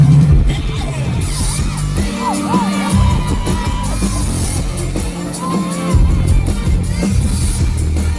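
A large crowd at a live rock show by DEWA 19 with Ello and Virzha at Watchon Fest 2024 shouts and cheers loudly and continuously, with whoops and yells rising in waves and heavy booming sound from the stage underneath.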